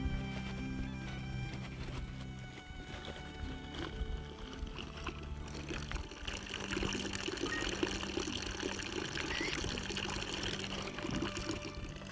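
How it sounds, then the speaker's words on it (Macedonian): Water runs from an outdoor drinking fountain, a steady splashing trickle that grows busier and brighter partway through, with faint background hum early on and no talking. "Ова е многу убава вода и добра чешма"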